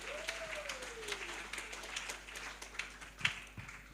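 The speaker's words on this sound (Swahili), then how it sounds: "Tupigie mama makofi mazuri." A congregation at a Christmas Day church service applauds in a steady, moderately loud patter of many hands, with a few sharper claps standing out and a faint voice rising briefly at the start.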